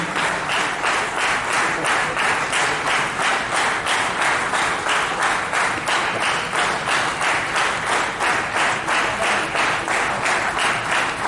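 Steady, dense crowd applause at an outdoor cycle rally flag-off, sustained and even for the full length with a rhythmic pulse running through it, loud and close, with no voices standing out.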